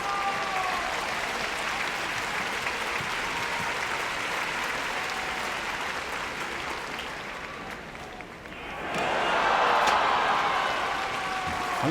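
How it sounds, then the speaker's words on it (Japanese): Big crowd cheering and applause in a sumo arena at the Nagoya tournament during the closing bow-twirling ceremony, a steady roar that dips briefly and then swells louder again. "なかなかの歓声ですね、よいしょも。"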